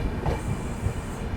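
Somnath Express 22958 with new LHB coaches rolls along at steady speed, a continuous low rumble and track noise heard from inside a third AC coach, brief and without speech.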